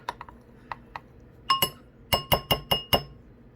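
A spoon stirs pineapple upside-down cake batter in a bowl, giving a few light taps and then a run of sharp, evenly spaced glassy clinks close by.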